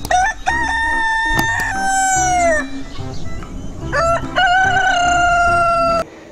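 A chicken toy figure gives out two loud, close electronic rooster crows, each a long, bright, tonal call that bends downward before cutting off, with a short gap between them and no talking.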